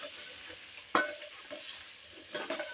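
Chicken and spices frying and being stirred in a pan for a village-style turnip and pea dish, a soft continuous sizzle with one sharp scrape of the spoon and a later stirring swell, no talk.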